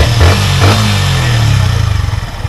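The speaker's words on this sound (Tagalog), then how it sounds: "yung sound check niya naman dahil naka-stock pa tayo na muffler. So ito yung tunog niya." Yamaha XSR 155 motorcycle running on its stock muffler, a loud, close exhaust with a brief rev and blip before settling into a steady, low, pulsing idle, with no talking.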